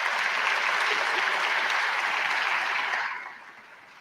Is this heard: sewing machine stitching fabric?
no